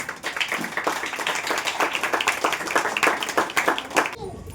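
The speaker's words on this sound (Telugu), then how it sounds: "ఆ చిన్న పాపకి గట్టిగా క్లాప్స్." Clapping from a group at a children's celebration event, dense irregular hand claps in steady applause lasting several seconds before cutting off abruptly.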